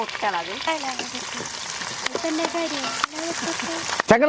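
Curry with fresh curry leaves sizzles in a pan while it is briefly stirred for a fish-head curry. The frying hiss is steady, with a few sharp utensil knocks, under a voice talking throughout.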